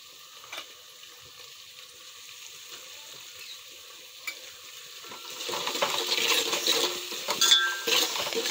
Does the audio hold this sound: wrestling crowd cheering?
no